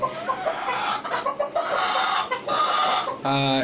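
Several caged deshi, Fayoumi and tiger chickens cluck and squawk close by in a steady jumble, with a short burst of rooster-like calling near the end.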